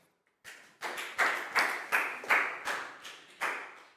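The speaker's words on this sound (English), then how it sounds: "Big round of applause for Bang Pon, please, guys." A small group of schoolchildren in a classroom claps in loose, rhythmic unison, about ten distinct claps at a steady pace, fairly quiet and without voices.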